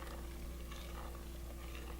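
Chicken noodle soup with curry powder, rice and noodles gets stirred in a pot, making a steady low bubbling and soft scraping hiss that holds at an even level throughout.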